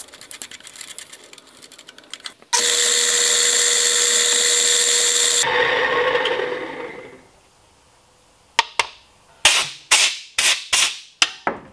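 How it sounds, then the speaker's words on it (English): A power drill whines loudly for several seconds drilling a tapping hole in metal for a set screw, and winds down, then a series of sharp metallic clicks and taps follow in quick succession. "we're going to drill the tapping hole right"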